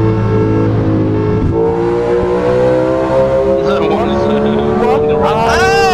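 A car in a racing game accelerates hard on a highway to overtake, its engine rising steadily in pitch, loud and continuous, with other engines revving nearby and voices chatting over the top.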